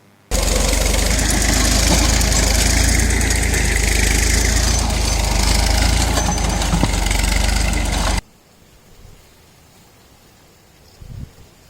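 A tractor engine idles on a roadside in Chittoor district where farmers are dumping tomatoes. The loud, steady, close rumble runs for about eight seconds, then cuts off, leaving quiet background.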